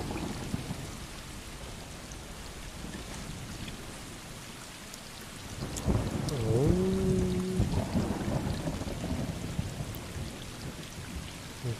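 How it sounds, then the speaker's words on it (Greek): Steady rain falls in the video game Stray, a faint continuous patter, with a rumble swelling midway as a brief tonal game sound rises over it. "Μια βροχερή μέρα."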